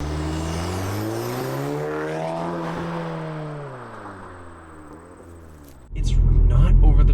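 A Remus valved catback exhaust on a Mk7.5 Golf R drones with a deep engine note that rises and falls through revs, then swells into a louder, rougher roar near the end.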